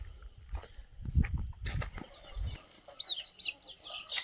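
Two-month-old pure Gavran country chicks feed on drumstick leaves, giving faint scattered clucks and soft peeps with light rustling, and a couple of clearer high chirps near the end.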